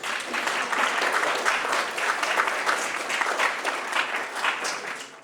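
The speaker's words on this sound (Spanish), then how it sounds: "Un aplauso, por favor." An audience at a sociology panel discussion claps steadily for several seconds. The applause is dense and even, with no voices over it.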